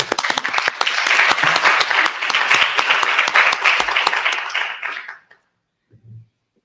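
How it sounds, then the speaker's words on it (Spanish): An audience at a university lecture session bursts into loud, sustained applause that holds steady for about five seconds, then stops abruptly, leaving near silence with a brief faint low thump at the end. "Un aplauso."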